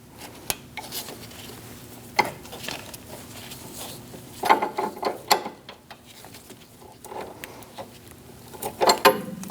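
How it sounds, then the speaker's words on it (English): A 13mm line wrench loosens the rear brake line from its hose on a 2006-2011 Chevrolet HHR, with irregular metallic clicks, scrapes and ratcheting knocks close by, louder bursts toward the end. "We're going to use a 13mm line wrench and loosen up this line out of the hose."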